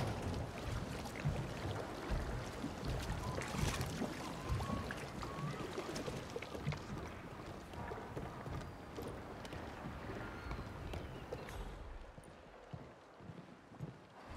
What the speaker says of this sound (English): Turn on boat engine.